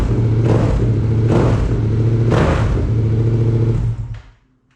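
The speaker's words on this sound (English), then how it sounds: "Sounds more like a V2, V-twin engine instead of like a parallel." A Yamaha Tenere 700 parallel-twin motorcycle engine with a 270-degree crank revs up loudly three times over a deep throbbing idle, then cuts off abruptly near the end.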